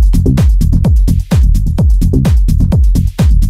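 Thick, layered synth bass plays a driving repeating pattern of short, pitch-dropping notes, loud and full, with no talking.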